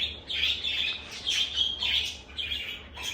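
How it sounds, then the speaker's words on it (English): A 12-day-old baby cockatiel chirps in a steady run of high, raspy begging calls, close and fairly loud, repeating in short bursts with brief gaps. "So that is a baby bird and cockatiel."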